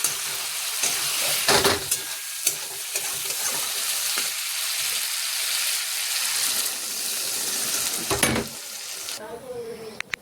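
Water poured onto a sizzling, well-fried spice paste for fish curry: a loud hiss and bubbling, with stirring scrapes and a couple of sharp bursts before it quiets.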